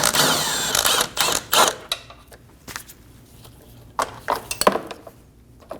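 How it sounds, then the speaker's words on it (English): Metallic clicks and clinks of a 10mm socket ratchet loosening nuts on a 2012-2022 Volkswagen Passat washer reservoir, heard as scattered close-up bursts separated by brief pauses, with no talk. "Using a 10mm socket, remove the 2 nuts."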